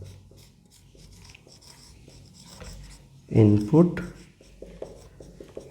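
Marker or chalk writing on a board during an electrical engineering lecture on two-port network parameters, faint scratchy strokes under someone speaking, with a louder burst of his voice partway through.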